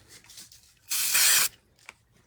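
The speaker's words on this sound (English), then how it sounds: "that didn't get enough spray, so let's give it a little bit more spray" A single half-second burst of aerosol spray onto a papercraft card, a loud close hiss, with faint handling rustles before and after.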